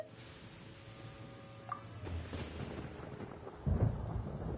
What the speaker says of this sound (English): Paimon used thunder!